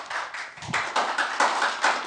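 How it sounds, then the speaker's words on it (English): Audience at a Richmond planning commission meeting applauding in a room. The clapping comes in steady, fairly quiet pulses with a roomy, slightly distant sound. "if we would not have applause one way or the other here"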